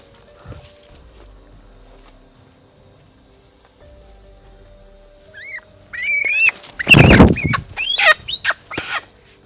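Quiet at first, then a burst of agitated hen clucks and squawks, loud and close, several calls in quick succession.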